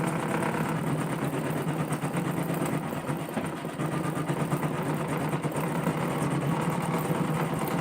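An embroidery machine stitching a design onto the bottom of a coiled rope basket, a continuous fast mechanical whirring and needle chatter held at a steady level for the whole stretch.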